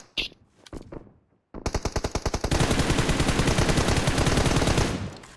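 PUBG Mobile gunfire: a few scattered shots, then a sharp, rapid automatic burst that keeps firing for about three seconds, loud and close.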